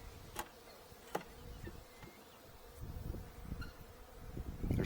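Honeybees buzz on beehive frames, a soft continuous hum of many wings close by, with faint rustles and light knocks.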